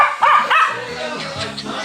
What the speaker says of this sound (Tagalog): So si Coco, napakaingay.